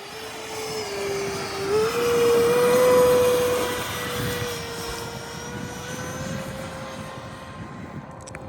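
Small propeller airplane coming in to land, its engine droning steadily nearby, rising in pitch and loudness midway before settling into an even hum.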